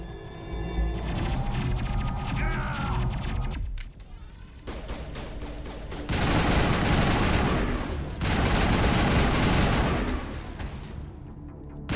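Video game weapons fire in rapid bursts, with dense, loud volleys of gunshots separated by short lulls. No speech is heard.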